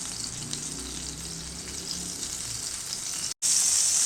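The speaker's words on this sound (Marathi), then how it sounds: "मी इथे पॅन गरम करायला ठेवलं आहे आणि यामध्ये मी घालणार आहे सॉल्टेड बटर" Salted butter melts in a hot pan, giving a continuous, close sizzle and crackle of frying that holds steady throughout, with a brief gap near the end and no speech.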